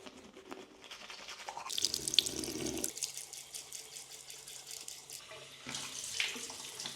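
Cold tap water runs into a bathroom sink during morning face washing, a steady close hiss with brief splashing bursts as hands scoop and rinse, no voices.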